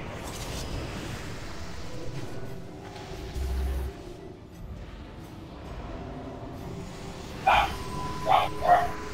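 A dog barks in the background during a voice chat over an online game raid, a few short barks clustered near the end against faint room noise and scattered talk.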